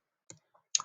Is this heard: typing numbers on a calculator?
yes